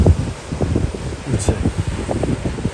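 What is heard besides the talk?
strong wind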